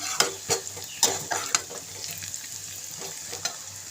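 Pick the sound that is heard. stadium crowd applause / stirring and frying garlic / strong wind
stirring and frying garlic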